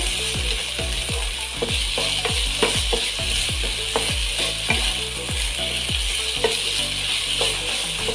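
Ginger-garlic paste frying with chana masala in a pan, a steady broadband sizzle running throughout, punctuated by a rapid series of sharp clicking scrapes and taps from stirring, close and fairly loud, with no voices.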